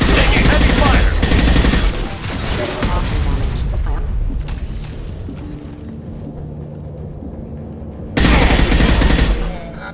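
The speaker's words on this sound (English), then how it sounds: "We've been spotted. Taking heavy fire!" Heavy automatic gunfire in the game Mass Effect 2, dense rapid bursts with booming impacts, loud and close, a brief lull in the middle before another burst, with a voice speaking over the action.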